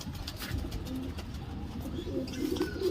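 Fancy pigeons, a Rajasthani breed, coo softly and repeatedly at close range amid a low background murmur at a pigeon sale in Tolichowki, Hyderabad.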